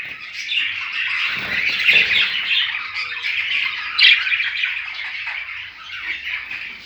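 Budgerigar chicks in a home breeding setup squawk continuously, a dense, loud chorus of harsh overlapping calls with a couple of sharper peaks, no talking.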